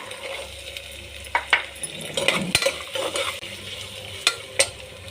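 Peas go into a frying pan and get stirred, with a low sizzle under sharp metal clanks and scraping spoon strokes against the pan, close by and irregular.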